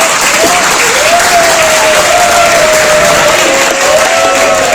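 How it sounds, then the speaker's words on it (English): Students clap for themselves at the end of an inorganic chemistry seminar, a loud, continuous burst of applause with a few cheers and a voice faintly audible underneath. "Just put together and clap for yourself now"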